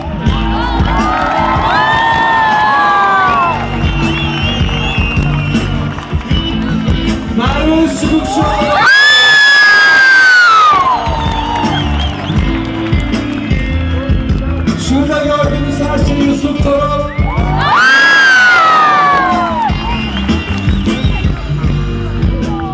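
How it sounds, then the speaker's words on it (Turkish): An outdoor concert audience in Malatya cheers and claps for the bass guitarist, with loud waves of whoops and shouting swelling twice over sustained bass and band sound. "Alkışlarınızla bas gitar için"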